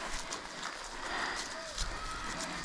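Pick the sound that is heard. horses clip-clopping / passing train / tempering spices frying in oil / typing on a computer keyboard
horses clip-clopping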